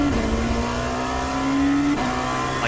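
A Dallara P217 LMP2 prototype race car in the iRacing simulator accelerating through low gears at Circuit of the Americas, a loud, close engine note climbing steadily with a brief dip at a gear change.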